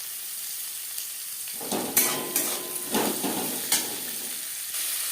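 Chopped onions dropped into hot oil in a wok that has just been used to fry eggs for an egg curry, a steady sizzle swelling as a spatula scrapes and clinks against the pan in several sharp strokes.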